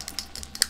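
A computer keyboard clacks nearby during a Zelda gaming session: a few quick, sharp keystrokes in an irregular pattern with no talk.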